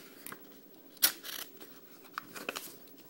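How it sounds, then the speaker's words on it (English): Scissors cutting an airsoft part straight, with several crisp snips spread irregularly over a few seconds, close and quiet with no talk. "gotta make sure I cut that straight."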